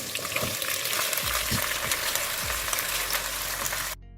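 A loud, dense sizzle fills the pan as parboiled rice is stirred into frying onions. A few low stirring thumps sound beneath the hiss before it cuts off abruptly at the end.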